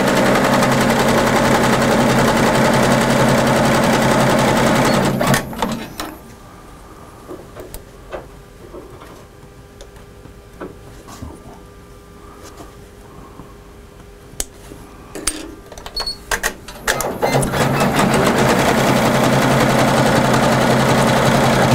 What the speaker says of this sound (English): We're ready to go ahead and start sewing the border.